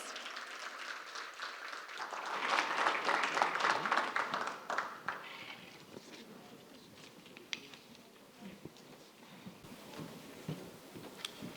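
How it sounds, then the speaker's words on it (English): Audience applause at an infrastructure panel event in Laredo, a dense burst of clapping that swells over the first few seconds and then thins into scattered claps. "Big round of applause for Mr. Sheldon Gallegos"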